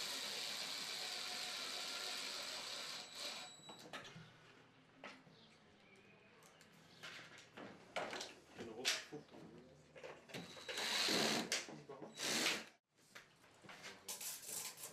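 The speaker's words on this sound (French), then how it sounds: "Il faut encore visser." Screws are driven into terrace deck boards in a garden: a steady powered whine holds for several seconds, then gives way to scattered knocks, clatter and short bursts of driving, close by.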